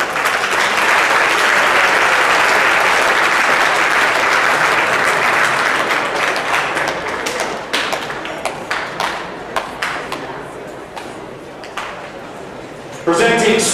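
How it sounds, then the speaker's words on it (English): A large crowd applauds production welding graduates at an Excel Tecc graduation ceremony. Loud, dense clapping fills the first half, then thins into scattered individual claps before a brief renewed burst at the end. "Round of applause for production welding."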